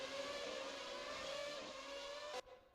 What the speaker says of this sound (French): première casse-moteur de la saison